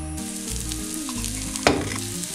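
Crushed coconut mixture drops into leftover sardine-frying oil and sizzles steadily up close, with a brief louder crackle and stir partway through; no one speaks.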